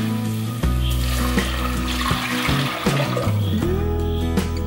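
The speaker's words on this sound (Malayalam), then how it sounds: "ഇതിലേക്ക് നമുക്ക് 1 കപ്പ് വെള്ളം ഒഴിച്ചു കൊടുക്കാം" A cup of water is poured into a sautéed mix for sprouted horse gram soup, giving a close, continuous splashing pour with light sizzle and a few clunks from the pan, no talking.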